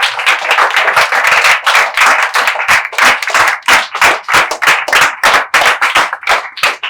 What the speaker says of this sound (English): Now I want each and every one of you to clap for yourself.